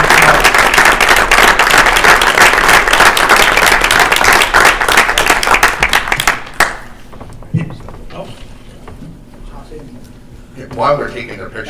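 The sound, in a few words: audience applause for award-winning students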